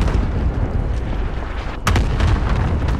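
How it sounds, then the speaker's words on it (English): Cluster strike explosions in the shooter Call of Duty Modern Warfare, heavy rumbling blasts rolling together into a continuous loud barrage with a sharper crack partway through. "cluster strike inbound"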